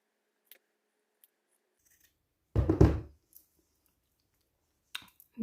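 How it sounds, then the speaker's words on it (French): Scissors snip away excess fabric in one brief, close cutting stroke, framed by a few faint clicks and handling taps in otherwise near silence. "nous allons découper le surplus de tissu à peu près entre 1 cm et"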